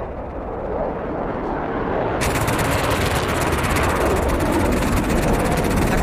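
Anti-aircraft artillery fire from Vietnam-era unguided AAA guns in the DCS World flight simulator, a loud, dense rumbling roar of rapid cannon bursts that thickens into a sharper continuous rattle partway through, with no talking.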